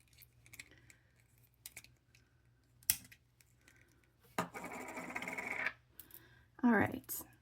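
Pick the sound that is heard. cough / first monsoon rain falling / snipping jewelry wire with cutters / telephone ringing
snipping jewelry wire with cutters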